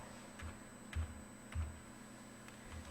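Computer keyboard key presses in a quiet room, about four or five soft separate clicks spread irregularly over three seconds, faint and close, with no voices.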